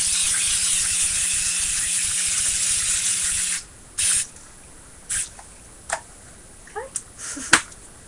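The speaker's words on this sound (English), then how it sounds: "Just shake and spray." An aerosol spray can hisses in one long steady burst for several seconds, close and loud, followed by a few short puffs and faint clicks during art journaling indoors.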